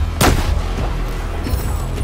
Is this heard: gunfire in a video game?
yes